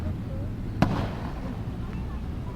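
A model warship, the Jervis Bay, fires its guns at an enemy submarine during a park naval battle show, giving one sharp bang followed by a fading rumble over steady crowd and ambient noise.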